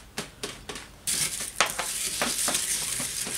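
Sugar in pearls is stirred into a dessert pizza mixture, a few soft scraping strokes followed by a sustained, close hissing, gritty swirl with repeated rhythmic pulses of the utensil against the bowl.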